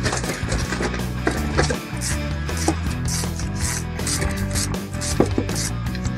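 A ball joint on the lower arm of a 4L front suspension is unbolted, three screws turned out with a steady run of ratcheting clicks and metallic rubbing, loud and close throughout.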